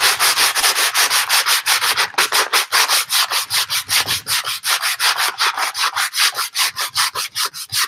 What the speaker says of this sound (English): Now we can safely start sanding.